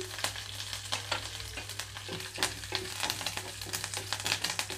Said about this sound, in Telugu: తాలింపు గింజలు వేగేటప్పుడే కరివేపాకు రెమ్మలు కూడా వేస్తున్నాను